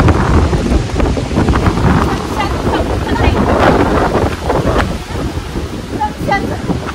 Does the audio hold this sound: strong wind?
yes